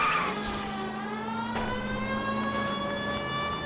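A car chase in the video game LA Noire, with engines revving hard in a strained, rising whine that slips in pitch. A short crack comes midway, and the engine noise is steady and fairly close.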